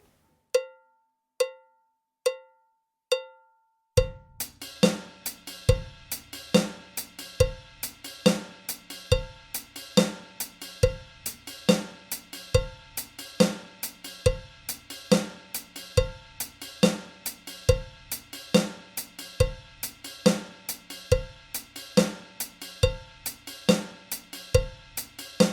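Offbeat drum rhythm at 70 beats per minute, opening with a few sparse, bright, cowbell-like clicks before a full kit joins with a steady pattern of crisp hits and low kicks, loud and alone.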